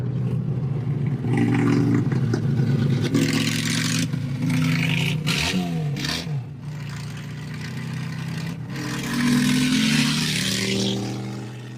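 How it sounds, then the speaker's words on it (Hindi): A Harley-Davidson 1200 Custom motorcycle with 1200 cc engine and straight-pipe exhaust on both sides rumbles loudly and steadily, with several throttle blips and revs rising and falling close by. "मैं आपको एग्जॉस्ट की आवाज सुनाता हूँ।"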